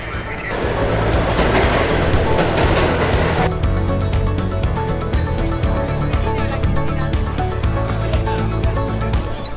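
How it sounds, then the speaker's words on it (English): A New York City subway A train rides along, a loud continuous roar with rattling and rumbling throughout, a hissing rush in the opening seconds. "heading over to Times Square on the A train"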